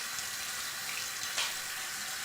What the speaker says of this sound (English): Go ahead and get your water at your comfortable temperature.